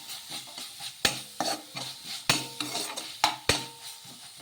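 Noodle mixture with tomato sauce being stirred in a pan, with sharp metal spoon scrapes and knocks at irregular intervals over a soft sizzle, close and clear.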